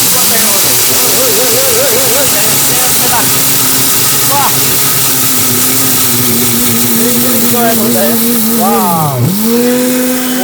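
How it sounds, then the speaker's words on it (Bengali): A 2000-watt commercial blender grinds chickpeas with a loud, steady motor whine that holds one pitch, then briefly dips and recovers near the end. "ভাই এইটা কমার্শিয়াল ব্লেন্ডার 2000 ওয়াটের দিলে তুফান ভাই।"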